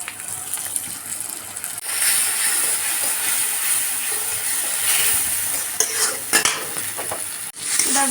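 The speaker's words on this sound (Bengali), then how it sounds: "এরপর আবারও পেঁয়াজটাকে ঘুরিয়ে ঘাড়িয়ে নেড়ে চেড়ে ভেজে নিচ্ছি" Onion with ginger and cumin paste frying in a pan for egg curry, a steady close sizzle broken by scraping, clattering stirs toward the end.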